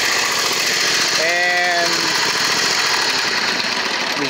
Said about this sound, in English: This here's a Grasshopper 226V. It's a 26 horse commercial engine, Briggs.